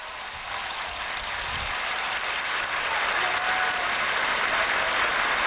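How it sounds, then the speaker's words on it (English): Stadium crowd applause during Singapore's 2003 National Day Parade, a broad, continuous roar of clapping that swells slightly and stays steady and full to the end. "Big applause from everybody in the stadium."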